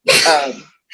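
A single sharp, loud sneeze bursts out up close during a talk show discussion, then fades quickly into a brief silence.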